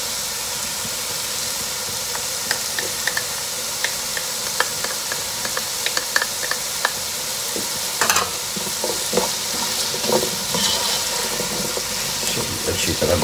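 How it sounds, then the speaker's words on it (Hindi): Tomato puree and celery being stirred in a hot pan: a close, loud sizzle with repeated scraping and clicking strokes of the spoon, growing busier toward the end. "अच्छी तरह मिक्स कर लो।"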